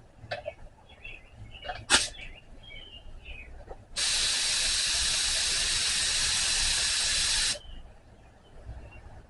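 Compressed air hose hissing during car priming, a steady loud broadband blast of about three and a half seconds, preceded by a few clicks and handling noises and followed by quiet room tone.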